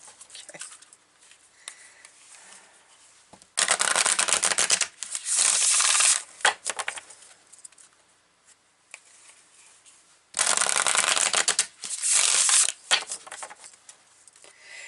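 An oracle card deck is shuffled close up in two long bursts of dense, papery riffling, each lasting a couple of seconds, separated by quieter handling and soft card rustles.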